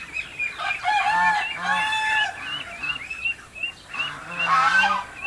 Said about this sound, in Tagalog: Mga ducks, mga chickens.